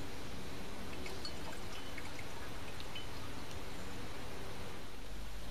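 Concentrated sulfuric acid is poured into a dropping funnel, heard as a faint, continuous liquid hiss and trickle with a few small drips, quiet and steady for several seconds with no talk.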